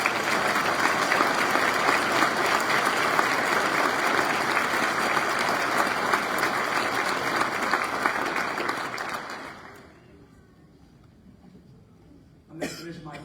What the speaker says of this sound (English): one more round of applause to all of our candidates.